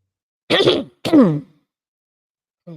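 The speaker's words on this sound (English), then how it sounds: "Let me have to clear my throat on that." Someone clears their throat twice in quick succession, close and distinct, followed by a brief faint vocal sound after a pause.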